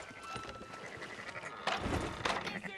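Sheep bleat a couple of times in Red Dead Redemption 2, faint and somewhat distant over a steady farmyard background, with some shuffling hoof-like noise between the calls.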